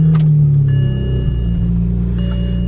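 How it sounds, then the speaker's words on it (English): A BMW car engine with roughly 400 horsepower fires up, a brief starter whir into a loud low rumble that settles into a steady idle close by. "Gonna fire up the BMW"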